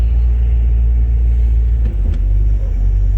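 A 1966 Ford Mustang GT with a 289 four-barrel V8 driving along, its engine a loud steady low rumble that fills the cabin, with a couple of faint clicks partway through.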